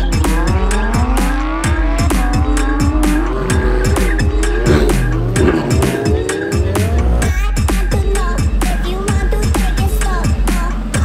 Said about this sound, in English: What we're up to tonight is a quarter mile drag racing.